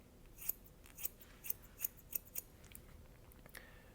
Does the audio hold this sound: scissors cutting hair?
yes